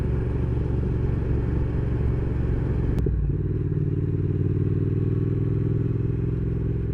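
A three-year-old Triumph Thruxton R motorcycle on the road gives a steady, loud engine drone with heavy wind rush, and a brief thump partway through before the rumble carries on unchanged.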